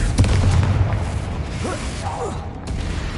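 The Confringo blasting spell bursts in Hogwarts Legacy, a loud close boom at the outset that fades into rumbling debris and faint creaking, mechanical rattles.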